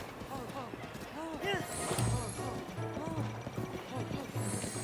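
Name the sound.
horse galloping hooves in video game Zelda Breath of the Wild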